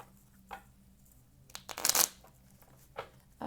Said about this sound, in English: One more shuffle, and then we're going to pull a few additional clarifiers.